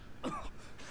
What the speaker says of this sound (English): He's coughing blood, now shoot him.